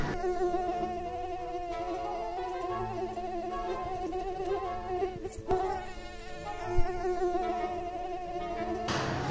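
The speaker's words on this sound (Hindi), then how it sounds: "ये मक्खी कब से परेशान किए जा रही है" A housefly buzzes continuously close by, its whining drone wavering in pitch for about nine seconds, with a few faint knocks in the background and no talking.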